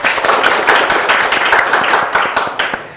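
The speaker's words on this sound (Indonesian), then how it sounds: "Tepuk tangan dulu dong." Audience applause at a small Indonesian entrepreneurship talk event in Tabalong, a steady wash of many hands clapping for about three seconds, fairly close, then thinning out at the end.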